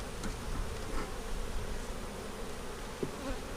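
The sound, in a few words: honeybees buzzing during a beehive inspection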